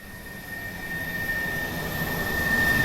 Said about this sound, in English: That's the sound of an aeroplane.